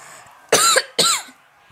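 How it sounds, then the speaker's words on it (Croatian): Two quick, close coughs in succession from a man playing FIFA 15, each a short harsh burst, with quiet before and after. "Kašljam."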